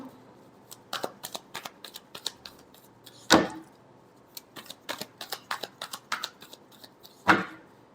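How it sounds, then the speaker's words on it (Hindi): Tarot cards being shuffled: a steady run of soft papery flicks and taps with two louder riffling bursts, close and quiet with no talk. "Last shuffle."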